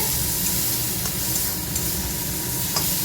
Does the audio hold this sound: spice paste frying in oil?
yes